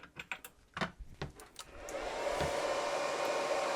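A handheld 110V flux-core MIG welder's wire feed motor pulls wire out of the gun with its nozzle removed, a steady motor whir starting after some clicks and handling noises and holding constant to the end.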